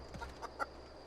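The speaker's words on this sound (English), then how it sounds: "An actual chicken." A chicken in the video game The Outer Worlds gives a few soft, short clucks, faint and close over a quiet background hum.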